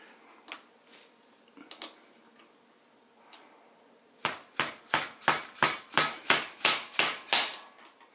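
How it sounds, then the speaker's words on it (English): A hammer taps a deep socket to seat an engine seal on a vintage Honda CT70 minibike: about a dozen quick, sharp metallic knocks in a steady rhythm, close and loud, after a few faint handling clicks. "use a hammer to knock it in"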